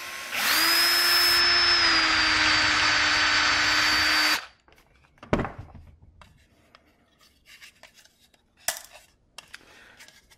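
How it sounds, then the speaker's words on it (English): A hand-held power drill removes rivets from a sinking-building mod, whining loudly and steadily for about four seconds before stopping. Scattered metallic clicks and clatter follow as the loosened pieces are handled. "I'm going to use the actual hand drill"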